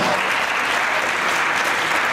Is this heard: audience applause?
yes